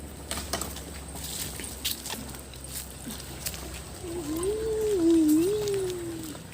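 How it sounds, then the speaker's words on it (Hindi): Hot spring water from a kund pours and splashes into a pool at the Chatkam tourist site, a steady rushing wash of water throughout with a brief wavering tonal sound near the end. "वहाँ से जो निकलता है यहीं गिरता है पानी ना।"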